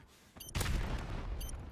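A grenade blast in a competitive shooter video game: a sharp broadband boom bursts out and rumbles on for over a second, followed by a faint clink, with no talk over it.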